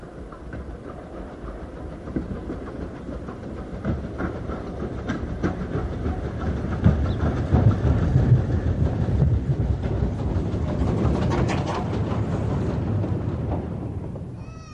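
BR Standard Class 4 mogul locomotive 76017, built at Horwich in 1952, runs on the Mid-Hants Railway with a steady rumble and rail clatter that swells in the middle, then fades as it passes.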